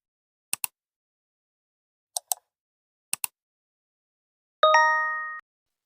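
A distant town church bell rings once over a snowy freight yard, a single clear tone that lingers and fades after a few faint clicks and taps.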